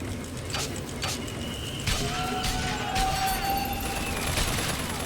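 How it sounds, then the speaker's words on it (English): Flak cannon fire in the Bioshock Infinite video game crackles as a dense, continuous barrage of bursts over a mechanical backdrop, with a faint voice now and then. "Flak cannon!"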